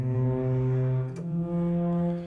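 A long, low foghorn blast from a virtual instrument sample, sustained and tonal, dipping briefly in the middle before the deep horn note resumes and holds.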